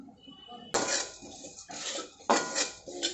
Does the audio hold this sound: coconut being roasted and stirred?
yes